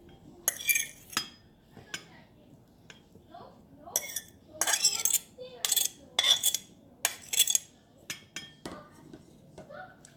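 Onion, mushroom and minced meat burger filling being mixed in a bowl, with repeated clinking and scraping of a utensil against the dish in irregular bursts, fairly close and clear.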